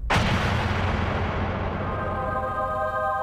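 A target vaporized by a laser explodes in a single sharp, loud blast, followed by a long rumbling decay with a faint ringing tail, no voices.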